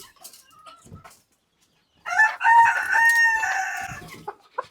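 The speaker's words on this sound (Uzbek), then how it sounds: "Xo'rozim" A decorative dwarf rooster at a farm in Kokand crows loudly and close by, one long drawn-out cock-a-doodle-doo after a quiet start with faint scattered noises.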